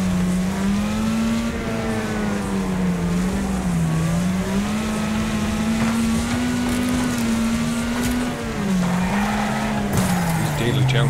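A race car in the Wreckfest driving game skids and slides loosely across the road, with a steady engine drone and long, continuous tire squeal throughout, loud and close.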